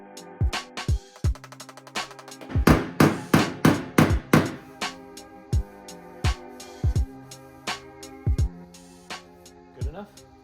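A body hammer taps around a dent in a salty E36 BMW car body panel, giving sharp metallic knocks in irregular clusters, sometimes rapid, sometimes spaced, close and clear.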